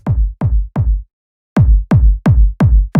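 Electronic kick drum sample without drum-bus processing: eight deep, punchy thumps with sharp transients, three in quick succession, a pause, then five more at an even pace, alone.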